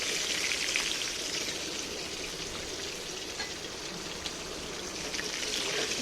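Chicken frying in hot oil, a steady, dense sizzle and crackle heard close up and alone, with no talk.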